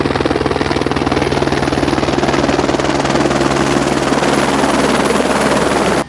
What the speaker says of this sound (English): Pardon the helicopter interruption.